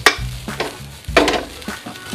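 Fried rice with curry powder being stirred in a hot pan, with scraping strokes of the spatula in several bursts over a steady frying sizzle, close and fairly loud.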